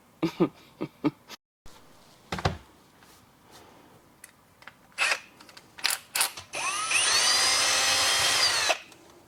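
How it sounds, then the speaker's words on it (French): A power drill bores holes while a lamp is fitted above a basin. Several short clicks and taps come first, then a loud, sustained whirring drill run lasts a couple of seconds close to the microphone. "je vais commencer par ça, par faire les trous"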